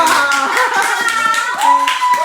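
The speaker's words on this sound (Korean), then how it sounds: "자 우리 식구들 박수." Family members clap together at a pool villa in Pohang, a steady patter of hand claps close by with a voice and other voices faintly mixed in.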